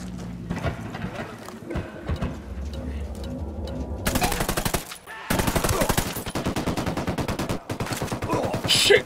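Bursts of automatic gunfire and single shots ring out in a Ghost Recon: Wildlands firefight at Villa Verde, with dense rapid volleys that stop briefly and then resume loud and close beneath a busy game soundscape.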